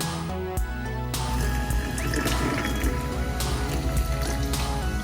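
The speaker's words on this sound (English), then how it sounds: "You're gonna add your spring water just to the top, right where you get the nice little bubbly line." Sparkling spring water pours steadily into a mojito glass, a continuous close-up rush of liquid with fizzing bubbles, heard alone without talk.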